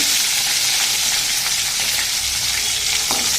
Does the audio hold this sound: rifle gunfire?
no